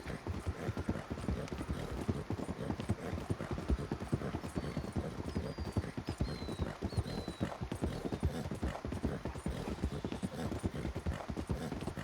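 Horse hooves clip-clop steadily on a hard surface, close and continuous, with a faint high bird call in the background.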